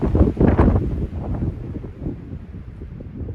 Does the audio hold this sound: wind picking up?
yes